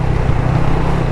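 A motorcycle engine lugs at low revs in third or fourth gear while being ridden, a steady close-up drone with a deep throbbing hum and no other sounds.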